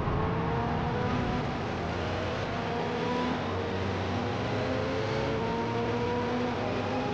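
A McLaren 720 races in Forza on the Karamy circuit with other cars close by, its engine a sustained high whine with shifting revs that rise and fall steadily, no voices over it.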